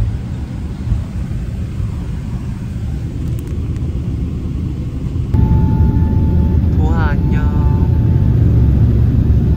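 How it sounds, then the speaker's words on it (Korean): A steady low engine rumble and roar fills the space, like an airplane taxiing heard from inside the cabin, with a brief chime partway through. "지금 비행기가 움직이고 있어."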